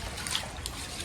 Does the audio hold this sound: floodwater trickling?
yes